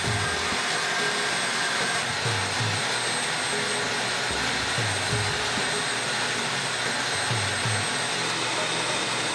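A vacuum cleaner runs steadily, sucking dirt and pet hair out of a farm truck's footwells during a detail, a loud continuous whine with repeated brief low bumps as the nozzle works the carpet.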